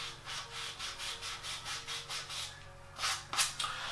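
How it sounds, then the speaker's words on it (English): Pastel being rubbed off a wetted pastel drawing of a black panther, a steady series of close, rhythmic scrubbing strokes, roughly two per second, growing rougher toward the end, with no talking. "You just simply rub it off"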